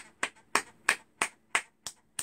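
Sharp hand claps ring out at a coaching session, seven crisp, evenly spaced beats in a quick steady rhythm, close and clear with no talk over them.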